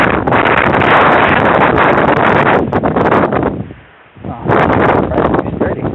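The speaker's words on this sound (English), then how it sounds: "It's windy." Strong wind buffets the microphone outdoors in loud, rough gusts, dropping briefly to a lull before roaring back.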